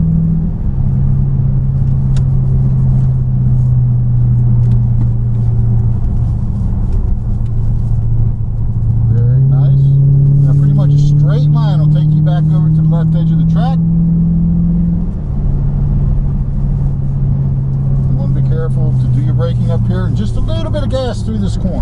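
A 2015 Dodge Charger SRT drives through corners on the Summit Point Motorsports Park track, its engine a loud, steady low rumble whose pitch rises and falls with acceleration, while an instructor talks over it.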